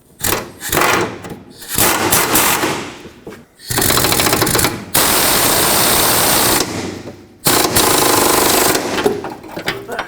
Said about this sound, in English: I'm just gonna tighten it up with my air gun